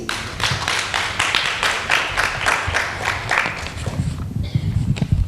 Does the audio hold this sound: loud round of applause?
yes